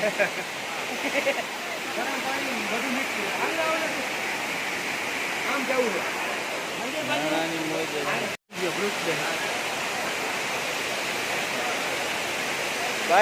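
Steady rushing stream water pours at a bathing spot near the Jatashankar Mahadev temple in Junagadh, a continuous broadband wash with someone speaking over it.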